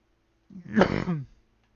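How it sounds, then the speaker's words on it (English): A single short, rough cough, close and clear, lasting under a second and followed by silence. "that cough was rough."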